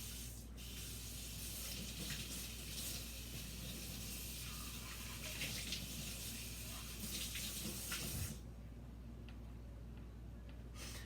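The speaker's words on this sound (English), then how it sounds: "And just give this a rinse." Steady hissing spray of tap water running over a food chopper being rinsed in a sink, continuous for several seconds before cutting off near the end, leaving a quiet room.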